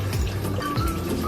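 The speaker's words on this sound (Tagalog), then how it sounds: "lalagyan ko pa ng tubig para yung sabaw" Water poured into a pot of soup broth during home cooking, a short gurgling, splashing fill with a couple of sloshing pulses.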